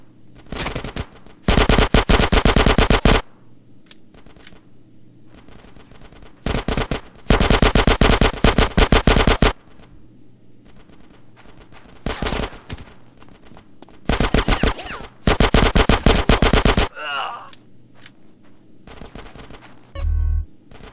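Heavy automatic gunfire from a GTA San Andreas mission comes in loud sustained bursts separated by short gaps, with scattered single shots between the bursts and a low thump near the end, with no talk.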